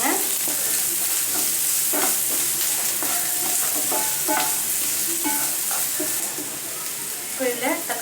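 Chopped onions sizzle in hot oil as salt is added and they are stirred for a spicy chilli chicken, with continuous frying hiss and repeated scraping stir strokes.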